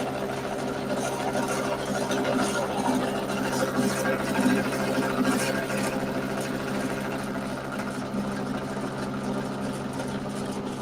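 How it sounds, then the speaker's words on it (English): A milling machine runs in a shed with a continuous mechanical whir and hum, steady and fairly close, while someone talks over it. "Wondering if you guys can hear me all right over the sound of the milling machine."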